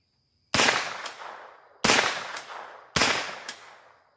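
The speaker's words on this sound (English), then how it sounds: "That was 3 shots in probably about a second" Three sharp carbine shots are fired at a target 100 yards away, each a loud crack with a short trailing echo, spaced about a second apart outdoors.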